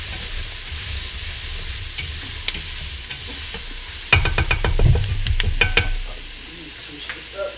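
Onions and vegetables for gumbo are stirred with a spoon in a pot on a stovetop. A steady sizzle hisses throughout, with a burst of scraping, clattering stirring strokes midway before settling back to frying.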